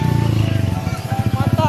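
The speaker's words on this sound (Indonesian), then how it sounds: "Motor ya." A motorcycle engine passes close by, a loud pulsing low putter rising and falling over about two seconds, heard from beside a ridden pony outdoors.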